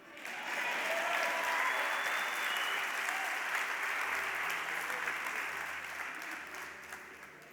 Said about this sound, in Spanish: ¿Se acaban los aplausos?